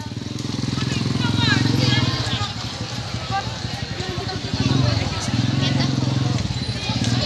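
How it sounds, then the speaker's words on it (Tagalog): A motorcycle engine putters nearby with a steady low drone that thins and then returns, heard outdoors under lively chatter from several people. "Juris, may motor."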